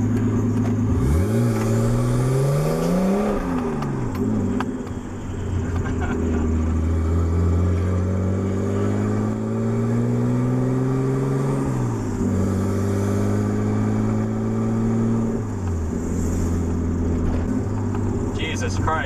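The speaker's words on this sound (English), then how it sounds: "on the highway, that thing sounded amazing with open downpipe" A budget-build car with an open downpipe revs and accelerates on the road, engine pitch rising and falling through several gear pulls, loud and continuous from inside the cabin.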